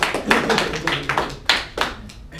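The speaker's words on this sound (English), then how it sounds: "Everybody, round of applause." A small group of students in a study session claps briefly in a close, uneven patter of distinct hand slaps that thins out after a couple of seconds.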